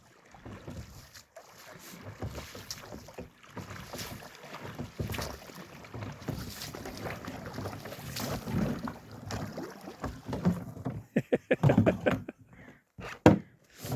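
Water sloshing around a heavily loaded small rowing boat crossing the sea, with oar strokes and wind buffeting the microphone, ending in a few knocks and thuds.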